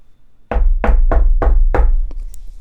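Five loud, evenly spaced knocks ring out on the wooden door of a small wooden house, each a sharp, close thump, followed by a faint tap.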